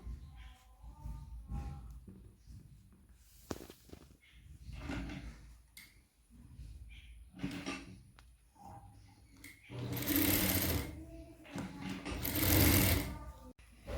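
A sewing machine stitches a puff sleeve for an Onam outfit, running in short bursts with soft fabric handling between, then two longer, louder whirring runs near the end.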